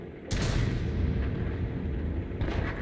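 War Thunder tank cannon, from the Object 261 match, fires one loud booming shot that rolls out into a long rumbling tail, followed by fainter mechanical clatter near the end.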